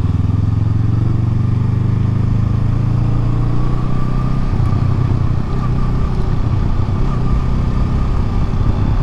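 A Honda Rebel 500 motorcycle cruising on the freeway gives a loud, steady engine drone mixed with rushing wind noise, continuous and unbroken from start to finish.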